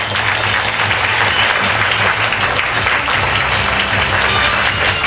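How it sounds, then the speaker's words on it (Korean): Audience applause at a Korean government innovation event as a presenter from the Ministry of Food and Drug Safety is welcomed to the stage; loud, dense, steady clapping fills the hall throughout with no voices over it. "뜨거운 박수 부탁드려요"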